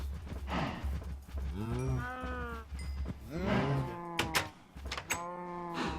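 Several cows in the video game Minecraft moo repeatedly in long, drawn-out calls, some overlapping, over a steady low background hum with no talking.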